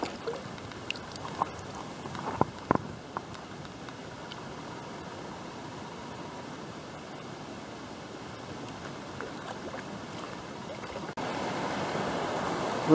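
A solo kayak runs downstream on a gentle class 1 river in Alaska, heard as steady flowing water and a soft wash with a few faint paddle knocks and splashes, rising slightly near the end, with no talk.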